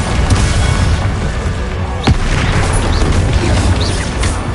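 A Bombarda spell explosion in Hogwarts Legacy booms through dense, loud game noise, with a sharp blast crack around the middle amid continuous rumbling and crackling effects.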